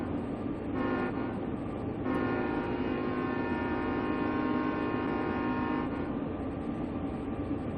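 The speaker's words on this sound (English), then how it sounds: "so I'm going to sound the horn" A locomotive horn sounds at a crossing, heard from inside the cab in two long sustained blasts over a steady engine rumble and hum.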